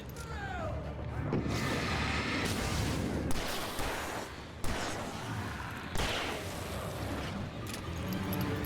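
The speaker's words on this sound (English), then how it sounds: "Explosions!" Explosions in the PS5 video game Alan Wake Remastered, a run of heavy booms and crashing blasts over a dense, roaring din, with a few sharp hits standing out.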